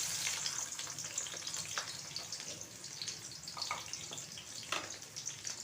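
Finely chopped onion frying in 50–60 grams of hot ghee, a steady close sizzle and hiss broken by occasional light spoon scrapes and clicks.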